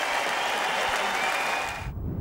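A crowd of 12,000 at Glasgow's Hydro applauds and cheers new SNP leader Nicola Sturgeon, a dense roaring wall of clapping that cuts off abruptly near the end.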